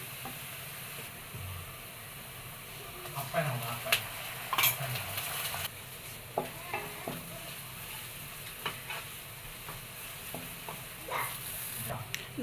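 Ginger garlic paste frying with browned onions in a pan for Kerala chicken biryani, a steady sizzle with bursts of stirring and scraping of a utensil against the pan, no voices.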